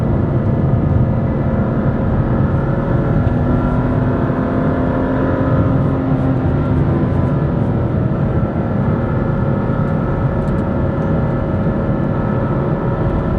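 A BMW M2 CS engine droning steadily from inside the cabin while driving, a loud continuous rumble with rising and falling engine tones and no talk over it.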